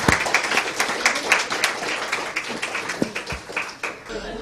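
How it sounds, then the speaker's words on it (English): Audience at a conference wrap-up gives a warm round of applause after a presentation, brisk overlapping claps that stay steady then begin to taper off. "we all deserve to give them another good round of applause for this"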